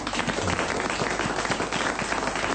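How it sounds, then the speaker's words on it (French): A theatre audience on a French television show applauds steadily, a dense wash of many hands clapping at even loudness throughout, with no voices on top. "Allez, on vous applaudit, vous êtes très drôle, bravo"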